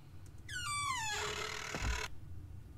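A door creaks open in the horror game Paranormal, with a long rising then falling squeak that ends in a soft low thunk as it stops, heard alone and fairly close.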